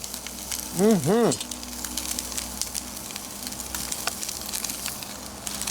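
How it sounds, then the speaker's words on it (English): Prime top sirloin steak, cooked sous vide, searing in a hot pan with a steady close sizzle and crackle throughout, while a brief rising-and-falling whistle-like tone sounds near the start; no voices. "Just want to get a good sear."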